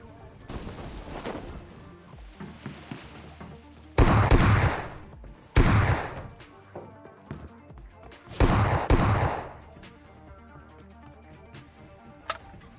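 An S12K shotgun fires in PUBG gameplay, producing several heavy, loud blasts spaced a few seconds apart amid scattered smaller in-game clatter and faint background sounds.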